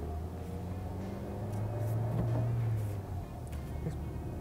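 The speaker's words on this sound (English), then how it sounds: "now you'll see me accelerating from first to second" A 2022 Maruti Suzuki Baleno AMT pulls away in first and shifts into second, a low engine hum that swells and then eases off at the gear change, heard steadily from inside the cabin.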